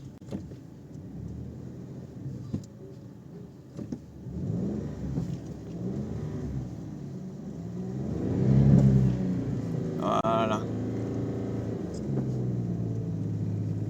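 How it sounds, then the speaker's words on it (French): A car engine rumbles and revs in the countryside as one car pushes another to get it started, a steady mid-pitched drone swelling and surging, with a brief spoken word. "je pousse la voiture avec cette voiture pour qu'il arrive à la démarrer"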